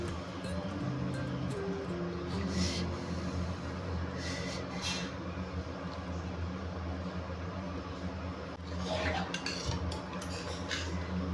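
Rice mixed by hand with bottle gourd curry on a plate, soft squelching and light clinks of the plate repeating steadily over a constant low hum, fairly close.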